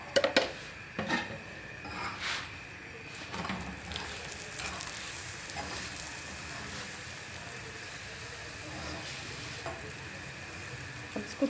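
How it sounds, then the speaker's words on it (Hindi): A masala paratha cooks on a pan with ghee, making a continuous close sizzle and fry with occasional louder spatula scrapes and pops near the start, steady and alone without voices. "इसको दूसरी साइड से पका के अब इस साइड पे मैं थोड़ा सा घी लगाऊंगी"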